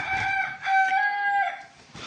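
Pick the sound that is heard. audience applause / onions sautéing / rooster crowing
rooster crowing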